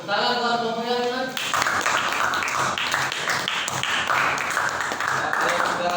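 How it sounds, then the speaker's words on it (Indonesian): Classroom applause for a student group after its chemistry presentation, many hands clapping in a dense, steady patter that starts abruptly after a moment of talk and fills the room. "tepuk tangan buat kelompok yang lain"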